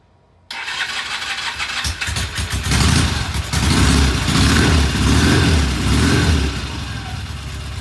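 Black Norton motorcycle engine catching after silence, then settling into a loud, rough idle with blips of throttle rising and falling, heard close up.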